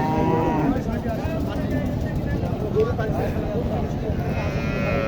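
A cow lows at a busy village cattle market, a drawn-out moo heard amid a dense background of crowd chatter and livestock noise, with people talking throughout.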